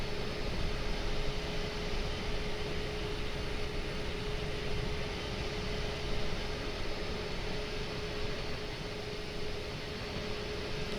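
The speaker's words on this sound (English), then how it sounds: "Airbus A310 approaching the runway." An Airbus A310 approaching the runway at Frankfurt in Microsoft Flight Simulator 2020, a steady broadband jet engine roar with a constant whining hum, unchanging and moderately quiet for the whole stretch, no voices.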